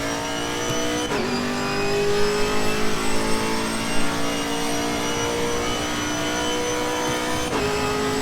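Camaro GT4 race car in Assetto Corsa Competizione at Bathurst, engine revving hard and steady near the redline, with two sharp gear-change dips breaking the sustained high-pitched drone, close and loud throughout.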